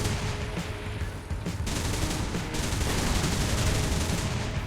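A US ground vehicle's gun fires in War Thunder, a dense, continuous loud rumble of gunfire and blasts with a sharp burst near the middle, no speech over it.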